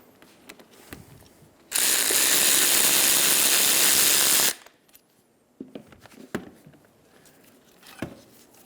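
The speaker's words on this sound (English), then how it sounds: "Using a 14mm socket, we're going to take apart our caliper." A 14mm socket on a ratchet wrench clicks rapidly for about three seconds while loosening a rear brake caliper bolt on a 2007-2011 Toyota Camry, then is followed by scattered metallic clinks and taps of parts being handled.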